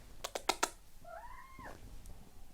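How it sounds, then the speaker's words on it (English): A small pet cat gives one clear, close meow with a rising and falling tone, just after a few quick clicking taps. "that's my little cat, look,"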